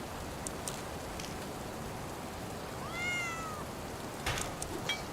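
A cat meows once inside the video game Born Punk, a short rising and falling cry heard over a constant hiss of rain-like ambience, with a few faint clicks and taps around it.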